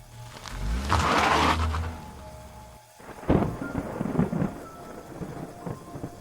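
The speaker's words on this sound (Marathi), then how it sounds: "अचानक पावसाची मोठी सर आली" A heavy rumble rolls through, then rain bursts in with dense patter and splashes hitting a surface, loud and close.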